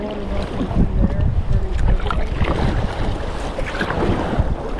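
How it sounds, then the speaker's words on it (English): Whitewater rushes through a river channel past a kayak in a steady, full roar of churning water, with gusts of wind buffeting the microphone throughout. "water rushing through there"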